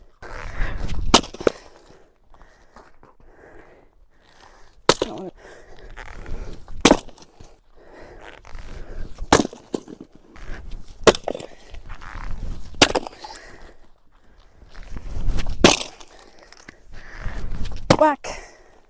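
An axe splits knotty, dense firewood logs in sharp, loud cracking impacts, about eight strikes spaced a few seconds apart, with quieter handling and movement between blows.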